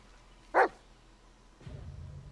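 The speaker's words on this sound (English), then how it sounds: "This is Bullock, your right-hand dog. Listen to his barking" Bullock the dog in the horror game Blair Witch gives a single sharp, close bark, followed by quiet rustling forest ambience.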